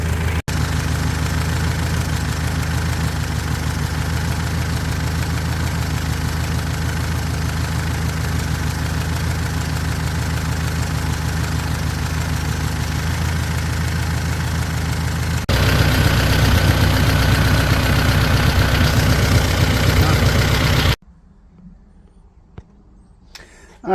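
A 1972 Toyota Corolla TE28 engine idles steadily after a carburetor float and carb adjustment, a loud, even, close-up rumble that grows a bit louder near the end before cutting to near silence.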